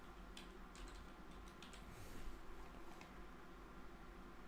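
Someone types on a computer keyboard with quiet, irregular clicking taps that come in loose bursts over a low steady background hum, with no talking.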